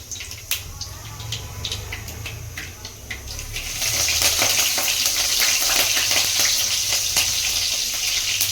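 Curry leaves and ginger garlic paste hit hot oil for bisi bele bath, a soft crackle that swells after a few seconds into a loud, steady sizzle with scattered pops and stirring.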